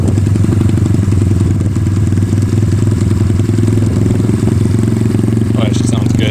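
An SSR 110 pit bike engine idles close by with a loud, steady, throbbing putter that turns slightly uneven at times. A voice talks over it near the end.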